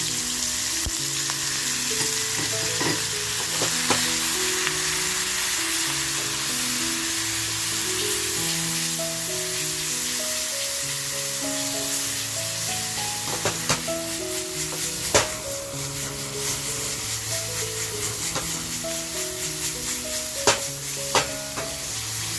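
Crushed green chilli thecha hits smoking-hot oil for kharda fish, setting off a loud, steady sizzle that lasts throughout, with occasional sharp ticks and clicks of stirring.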